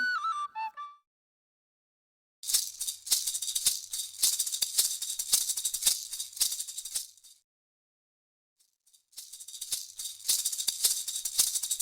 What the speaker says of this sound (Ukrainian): Маракаси